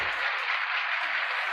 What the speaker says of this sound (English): sometimes I'll also add little applause transitions that look like this